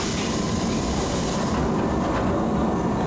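A Keisei Chihara Line train pulls away from Gakuenmae station, its broad rumble and wheel noise loud and steady close by, easing slightly toward the end.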